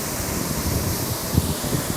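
Wind driven by a waterfall at the foot of a cascade on Jeju Island, a continuous broadband rushing roar, steady and fairly loud, with low gusty buffeting against the microphone.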